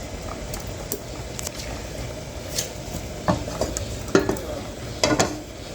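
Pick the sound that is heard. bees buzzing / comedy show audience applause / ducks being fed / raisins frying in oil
raisins frying in oil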